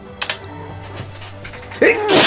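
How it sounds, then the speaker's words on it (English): Video game character, a cute-voiced figure, letting out a short wet sneeze near the end, preceded by a couple of brief vocal bursts over a low background hum. "Just sneezes all over him."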